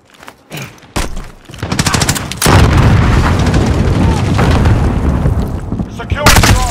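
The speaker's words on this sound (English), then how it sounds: "Plant an explosive." A planted explosive detonates in a first-person military shooter game, a sudden loud boom at about 2.5 seconds rolling into sustained rumble and scattered gunfire, with sharp crack-like shots near the start and end and in-game voices calling out underneath.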